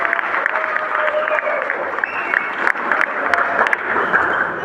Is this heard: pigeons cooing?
no